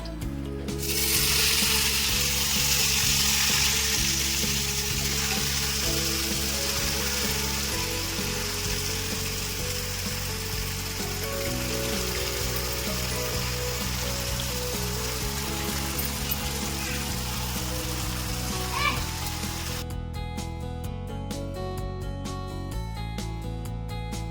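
Chicken, spices and curry leaves frying in oil in a pan for chicken curry, giving a loud, steady sizzle that runs without a break and ends with some clattering near the close.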